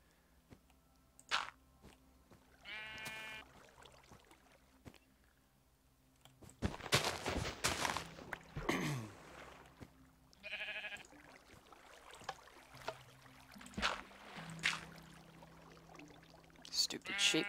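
Sheep bleat in a video game, with several short bleats spread among clattering game effects and someone talking over them.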